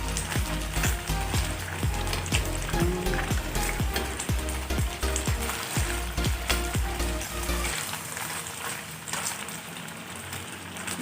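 Chicken pieces for teriyaki fry in a pan with a steady crackling sizzle, punctuated by clattering spatula scrapes and knocks in an irregular rhythm, quieting toward the end.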